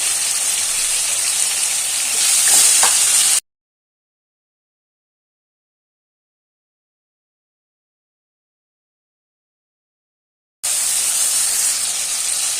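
Tomatoes with cumin and red chili powder fry in a pan for fish curry, giving a steady, fairly loud hissing sizzle that stops abruptly into a long silence before resuming just as strongly.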